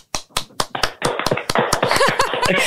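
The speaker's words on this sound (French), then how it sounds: "Moi, j'applaudis." One person clapping hands, a handful of sharp, close claps in quick rhythm, soon overlapped by lively talking and laughter.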